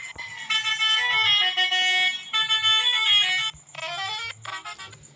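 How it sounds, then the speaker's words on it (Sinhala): Bus horn in a Sri Lanka bus simulator video game, several loud tonal honks in bursts, a long blast followed by shorter ones, clear and alone. "අපි හෝන් එකකුත් ගහමු."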